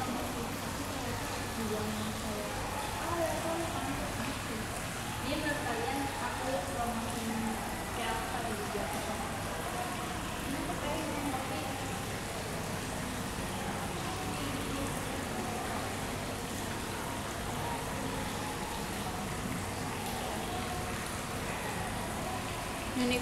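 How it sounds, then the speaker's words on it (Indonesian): Steady, broadband water noise at an outdoor pond runs throughout, close and continuous like light rain or trickling water, with voices talking over it. "Jadi ada suara air-air gitu."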